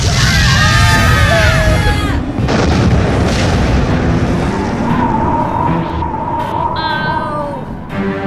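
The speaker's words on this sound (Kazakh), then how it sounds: "Дәл қазір не жарылды?" A loud, dense blast in an animated children's adventure series rumbles heavily and continuously, with bright whistling tones riding above it before it slowly eases off; no one speaks.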